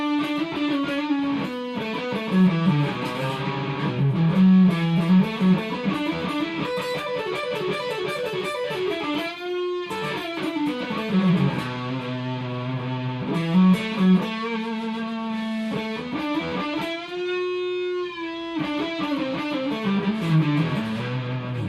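An electric guitar plays through a Blackstar HT5R tube amp head with distortion. Sustained, overdriven notes and chords carry repeated string bends, rising and falling in pitch, loud and close with no talking.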